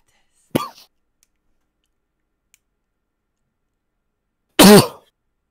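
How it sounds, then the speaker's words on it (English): A single loud, harsh cough bursts out after a quiet stretch, preceded by a brief softer throat sound; no talking. "I've got coughs."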